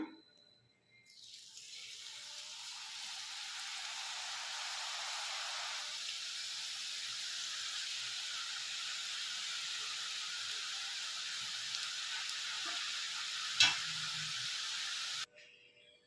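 Ribbon murukku dough fries in hot oil with a steady, hissing bubble that starts abruptly, holds evenly for over ten seconds with one brief knock, then cuts off.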